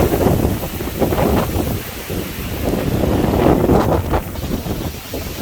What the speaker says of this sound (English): Wind is blowing pretty damn hard out here now.